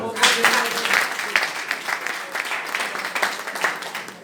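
Church congregation clapping during a bilingual French-English sermon, a moderately loud, uneven wash of hand claps with a few sharper individual claps standing out, lasting a few seconds.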